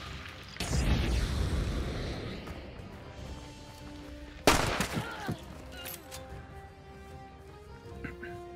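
Gunfire in the video game Hunt: Showdown, a rumbling burst near the start and a sharp loud shot midway with echoing decay over game ambience.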